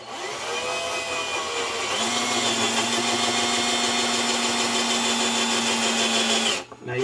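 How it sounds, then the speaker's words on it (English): A step drill bores into PVC with a loud, steady motor whine that climbs in pitch and holds for several seconds, then cuts off abruptly near the end. "I'm going to go ahead and start drilling"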